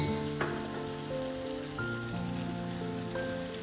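Tomato paste frying with ginger garlic paste in a pan for malai chingri crackles in a busy, close sizzle, steady and alone throughout.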